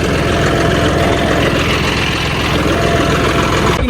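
A tractor engine idles close by, a loud, steady low rumble that holds without a break for the whole stretch.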